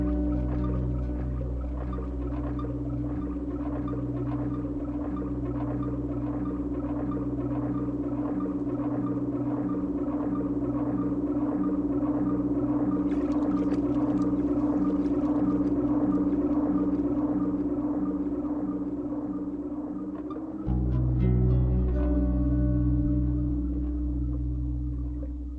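Sub-Sea Hollow, a dark ambient piece by Death Cube K (Buckethead), unfolds as a deep sustained drone with pulsing low tones, murky whale-like swells and a heavy bass layer that shifts abruptly near the end.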